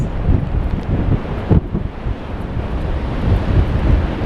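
Strong wind blusters across Blackpool promenade at high tide, producing loud rumbling gusts on the microphone over a constant roar of surf from the sea, with no voices.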